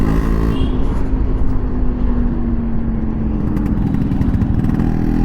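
A Yamaha RXZ motorcycle rides along a road, its engine droning loud and steady up close with a rattling two-stroke note and slight shifts in revs, without any voices.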